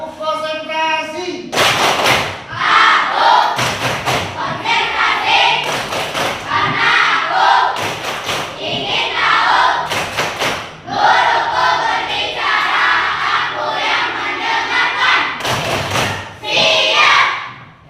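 A classroom of primary pupils claps a patterned concentration routine in sharp, loud unison bursts, rhythmic groups of claps broken by a chanting voice and short pauses.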